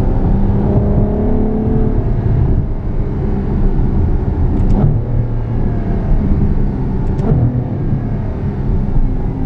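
A 2014 Ferrari F12 Berlinetta accelerates hard, its exhaust a loud sustained roar that rises in pitch in long pulls with brief breaks at shifts, heard close with no talking.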